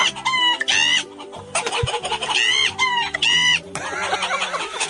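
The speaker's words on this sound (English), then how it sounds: "you can hear the chickens in the back responding" Loud, agitated clucking and squawking from a barnyard flock of chickens, repeated raspy calls in quick bursts with a brief thump midway, reacting to someone shouting at them.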